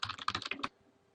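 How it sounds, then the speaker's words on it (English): Rapid burst of keystrokes on a computer keyboard while a root password is entered, about eight quick clicks at close range, then near silence. "I'm going to type in a root password"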